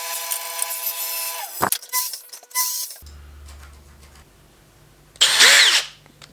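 A power drill turns a Forstner bit through a jig to bore a Euro hinge cup hole for a cabinet door, with a whining spin-up, brief bursts, then a loud grinding cut near the end.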